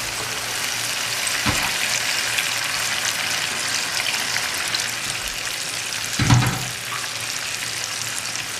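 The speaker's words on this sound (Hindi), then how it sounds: "अब मैं इसमें पानी शामिल करूंगा।" Water poured into a pan of fried mutton and potato curry, heard as a steady loud sizzle with two brief surges of hissing, one near the start and a stronger one later.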